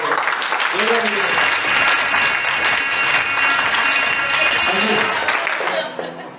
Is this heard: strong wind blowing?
no